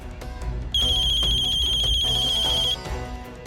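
A phone rings with a steady electronic ringtone, a bright warbling tone held for about two seconds over faint background music and room noise, then stops.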